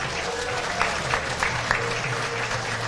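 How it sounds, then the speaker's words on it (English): Light scattered clapping and a low murmur rise from the crowd at an outdoor athletics stadium during a national track and field championship, steady and modest rather than a loud ovation. "a little murmur and a giggle and a ripple of applause"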